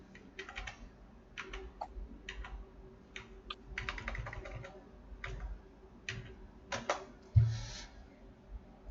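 Bursts of quick clicking keystrokes on a computer keyboard, close and moderately quiet, coming in short irregular runs with brief pauses between them.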